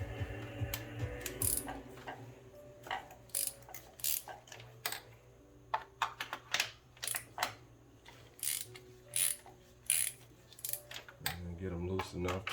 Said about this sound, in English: Break these free with the long ratchet.